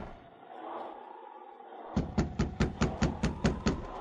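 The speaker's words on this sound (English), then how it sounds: "he stood knocking on the cabin door." Ten firm knocks rap in quick, even succession on a wooden cabin door in the Yukon, loud and close after a stretch of low room noise.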